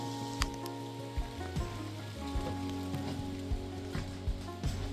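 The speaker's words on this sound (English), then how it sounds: "it's raining out" Rain falling outside at a roadside farm stand during peony harvesting, a faint, steady soft patter with a low hum underneath and a few small taps, no voices.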